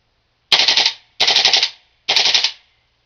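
King Arms M4 gas blowback airsoft rifle firing three short full-auto bursts, each a rapid clatter of shots lasting about half a second, loud and close with clear gaps between bursts.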